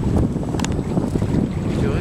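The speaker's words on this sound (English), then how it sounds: "The wind is there, my friends." Wind blowing steadily over a sailboat, a continuous low rumbling buffet of wind noise on the microphone with faint water and rigging sounds mixed in, no speech.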